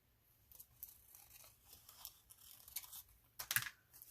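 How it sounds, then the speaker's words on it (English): Scissors cut through a 12 x 12 paper card sheet, making faint, soft snipping and rustling sounds with a sharper crisp snip near the end. "Then I'm going to cut this off."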